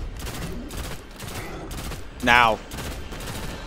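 Rapid gunfire from a NightFall video game shootout, a dense crackling barrage running throughout, with a sharp shouted voice cutting in briefly over the shots.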